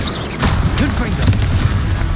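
A Confringo blasting spell explodes in Hogwarts Legacy combat. It is a short, booming burst, loud and close, with rumbling game noise behind it.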